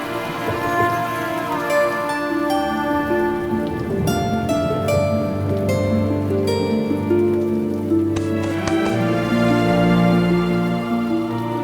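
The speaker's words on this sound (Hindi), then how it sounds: "बेमौसम की बारिश को भी आज ही होना था।" Unseasonal rain falls steadily on a surface as a dense, constant wash of patter, sitting under sustained musical tones throughout.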